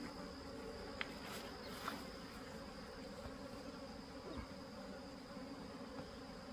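Agitated honey bees in a backyard three-frame mating nuc hive make a steady, dense buzzing drone, with close passing wingbeats over the swarm and no talking.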